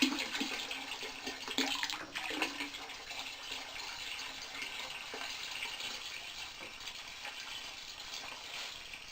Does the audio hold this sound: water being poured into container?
yes